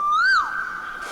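An Asian koel gives a single clear, whistled call that rises and then levels off into a sustained note. It is brief, moderately loud and heard alone against a quiet background.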